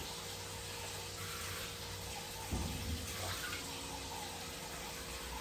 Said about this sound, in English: I gotta pour some water in there.